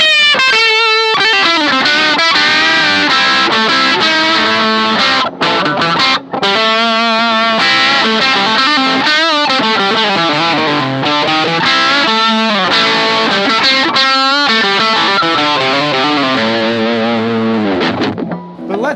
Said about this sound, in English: We've got distortion tone